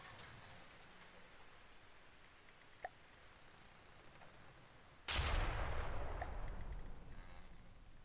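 Battleship guns fire at an enemy marauder in the naval combat game From the Depths, with one small distant shot followed by a heavy, booming blast that rolls on and slowly fades.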